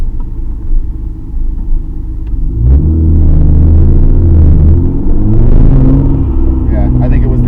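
Nissan R32 GTR engine after a new R35 coil pack kit and ground fix, a deep steady idle that swells louder after a few seconds, close by, with talking over it.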